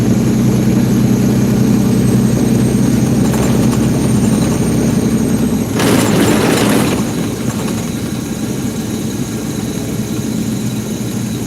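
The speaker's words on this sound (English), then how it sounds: "Know y'all hear that turbo about to kick in." Heavy truck engine idling with a turbo, a loud constant low rumble and drone close by, with a brief surge of broadband whoosh partway through before settling back to the steady idle.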